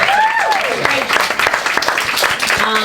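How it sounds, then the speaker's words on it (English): A live audience applauds after a show, broad clapping filling the room while voices and other tones sound through it. "A round of applause."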